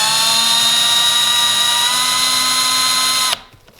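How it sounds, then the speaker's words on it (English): A Milwaukee M12 Fuel cordless drill drilling a hole, a loud steady high-pitched motor whine held for over three seconds before it stops abruptly, leaving quiet. "drill a hole"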